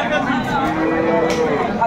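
A cow lows at a busy cattle market, one sustained moo heard close up, with people talking around it.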